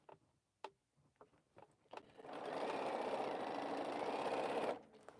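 A few quiet taps and clicks come first, then a sewing machine stitches fabric in a steady, even whir for about three seconds before it stops, close and fairly soft.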